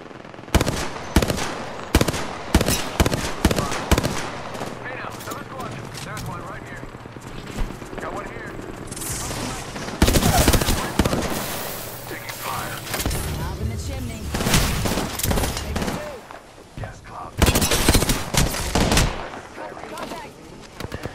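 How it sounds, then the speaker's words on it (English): Bursts of rapid automatic gunfire and single shots in an Apex Legends match, loud and clustered in sharp volleys with quieter gaps, alongside in-game voices speaking. "Shots fired."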